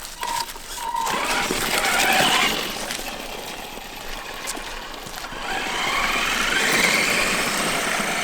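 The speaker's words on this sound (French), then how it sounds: "C'est du gros monster truck, donc c'est vraiment prévu pour rouler un peu partout." A T2M XTS brushed RC monster truck drives along, its small electric motor giving a steady whine that rises and falls in pitch through two accelerating surges, close by and fairly loud, with no talking.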